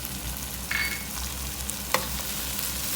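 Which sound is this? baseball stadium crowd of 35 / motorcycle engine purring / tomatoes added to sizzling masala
tomatoes added to sizzling masala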